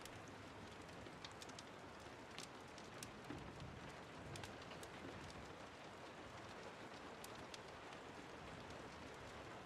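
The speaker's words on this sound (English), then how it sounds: "The rain sounds make it so comfy" Faint, steady rain patters continuously with scattered small droplet ticks, a soft even hiss throughout.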